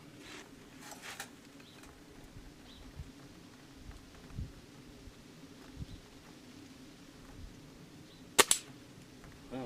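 A single sharp crack from a Gamo Whisper Fusion Elite .177 air rifle stands out late and close, alone over a quiet outdoor background with faint rustling.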